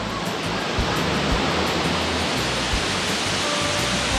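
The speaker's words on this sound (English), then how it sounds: "Okay, we're at the waterfall." Rockmouth Waterfall roars with a dense, steady rush of falling water, loud and close, continuous without breaks and with no voices heard.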